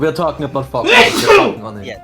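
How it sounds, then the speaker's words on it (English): A single person sneezes sharply, a burst of breathy noise right after quick casual speech, close and loud, with talk around it. "No, that's just a normal sneeze."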